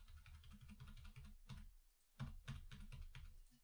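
Rapid keystrokes on a computer keyboard, some keys reportedly dead, clatter in quick bursts with a short pause midway, fairly close and steady, with no talking.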